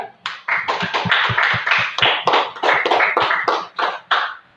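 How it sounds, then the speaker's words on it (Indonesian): A classroom of students claps for a presenting group, with uneven, fairly close hand claps in loose bursts and a few sharp, distinct slaps standing out from the rest. "tepuk tangan buat kelompok Tundra"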